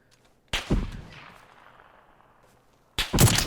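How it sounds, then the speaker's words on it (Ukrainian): Gunfire in the battle royale game PUBG: two sharp reports, the first followed by a long fading echo tail, the second arriving near the end, heard from a moderate distance with no talk over them. "Тепер справа і стріляє."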